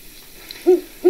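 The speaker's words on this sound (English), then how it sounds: "That's a great horned owl." A great horned owl calls in a woodland setting, giving two low, deep hoots close together near the end after a quiet start, fairly clear against faint background hiss.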